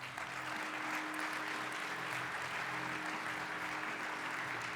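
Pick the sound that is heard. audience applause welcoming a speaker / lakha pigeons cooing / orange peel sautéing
audience applause welcoming a speaker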